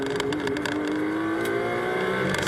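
A Ferrari Challenge race car accelerating hard at the Valencia circuit, its engine note climbing steadily through the revs with a loud, continuous high-pitched wail and crisp gearshift breaks.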